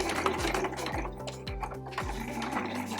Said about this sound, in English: I'm gonna just stitch it on with about a 1/4 inch seam allowance